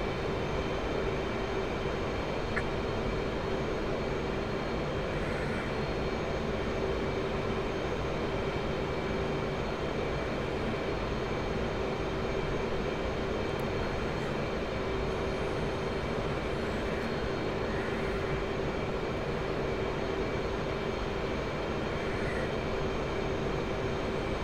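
Airplane engines droning in a VR flight simulator during aircraft carrier practice, a dense unbroken roar that stays level and loud throughout, with no voices over it.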